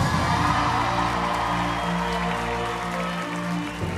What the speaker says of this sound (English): Thanks for screaming for me.